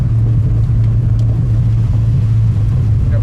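A 1999 Subaru Forester with new struts rolls along a bumpy wooded dirt track at night, a loud steady low engine and road rumble from inside the cabin with faint knocks, no speech.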